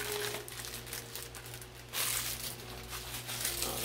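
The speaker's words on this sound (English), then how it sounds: "Sorry about the crinkling." Packaging crinkles and rustles up close as a gift is unwrapped, with irregular crackling bursts over a low steady hum and a louder crumple toward the end.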